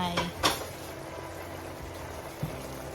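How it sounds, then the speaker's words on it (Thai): Tomatoes being stir-fried in a pan, with a couple of sharp metallic clanks of a utensil against the pan at the start, then a quiet sizzle and soft scraping, and a light tap near the end. "I'll keep stir fry until the tomato is all cooked"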